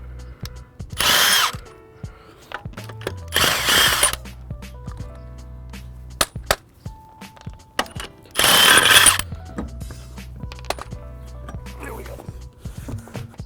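Lug nuts come off a car wheel during a tire change as a power impact tool fires in three loud, harsh rattling bursts, with short clicks and clanks of tools and nuts between them and a person talking throughout.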